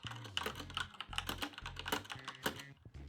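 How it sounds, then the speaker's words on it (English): Fast, irregular clacking keystrokes on a Corsair K63 mechanical keyboard with red switches, close and crisp, typed alone in a quiet room. "The big difference is typing feel. With the Corsair,"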